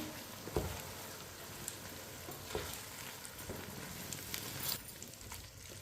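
Chopped tomatoes hitting hot oil for Hyderabadi chicken biryani, a quiet steady sizzle and crackle with a few soft stirring knocks, no voices.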